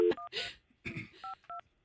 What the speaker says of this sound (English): Hang on, Fester, I'm dialing this number up